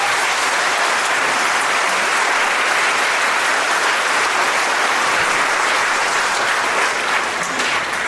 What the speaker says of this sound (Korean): 크게 박수해 주시기 바랍니다